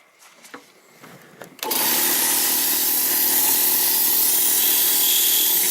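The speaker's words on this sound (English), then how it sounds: "Now we can turn our compressor on." An air compressor starts abruptly after a few faint handling clicks and then runs as a loud, steady, broadband roar while filling a buoy for an oyster reef ball.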